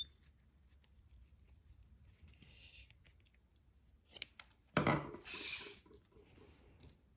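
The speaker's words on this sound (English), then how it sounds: "we are now going to trim back the excess on there" Scissors trimming excess fabric from a handmade bra, a few close crisp snips and rustling cloth near the end after a quiet stretch of faint handling sounds, no talk.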